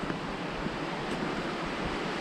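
A river flows along the Riverside Walk in Zion National Park, making a continuous broadband rush of water at a steady, fairly loud level with no voices.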